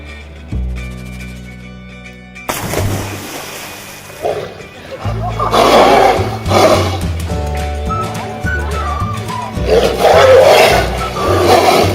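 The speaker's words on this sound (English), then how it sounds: "Tiger." A tiger's roar, for a children's zoo-animal lesson, rises over a bed of steady background music, with surging growling bursts repeating through most of the clip.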